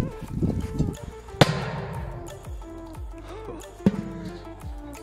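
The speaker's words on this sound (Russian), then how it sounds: "П-23. Вы все знаете эту петарду." A powerful P-23 firecracker bursts under a metal pot and launches it, giving one sharp loud bang followed by clattering and a second sharp impact as the pot lands, with faint voices around.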